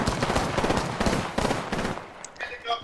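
Rapid automatic gunfire in the video game Apex Legends, dense repeated shots for about two seconds, then a brief lull with small electronic chimes and effects, voices faintly mixed in.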